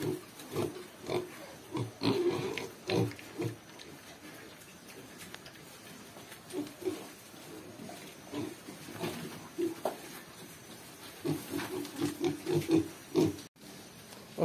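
Small pigs grunting in a pen, repeated low snuffling oinks in irregular bursts, some close and some overlapping, against quiet farm background noise.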